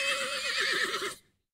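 A horse whinnies loudly and close by in one long, wavering neigh that quivers in pitch, then cuts off into silence.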